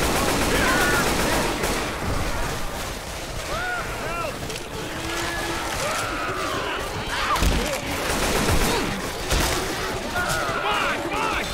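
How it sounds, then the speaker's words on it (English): Gunfire in the video game Left 4 Dead 2 crackles in scattered bursts through a busy mix of game noise, with player voices talking over it. "Watch where you're shooting."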